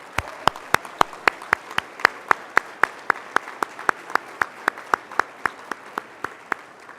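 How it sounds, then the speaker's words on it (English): An audience at a law school's annual recognition dinner claps in steady unison, with about two dozen evenly spaced, crisp claps that stay even in loudness throughout. "Let's give Mary Frances, Larry, and Bob one more round of applause."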